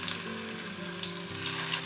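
Scallops fry in plenty of very hot oil, at about 250 degrees, giving a close, steady, crackling sizzle that runs continuously throughout.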